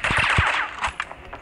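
Rapid automatic rifle fire from an AUG in the mobile shooter Critical Ops, a dense burst of close, sharp shots followed by a few scattered single reports.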